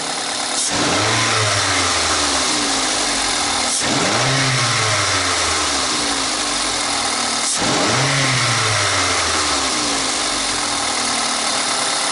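A Toyota Fielder engine under diagnostic testing revs up three times in steady cycles, each rise climbing and then settling back, loud and close with a constant mechanical drone between revs.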